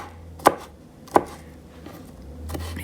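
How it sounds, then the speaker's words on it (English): Fresh garlic being chopped with a knife on a board in a home kitchen, two sharp close chops a little under a second apart, then a softer third tap near the end. "chop his garlic on up"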